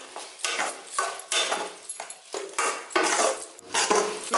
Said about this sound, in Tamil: சேர்த்துட்டு நல்லா கலந்து விடுங்க.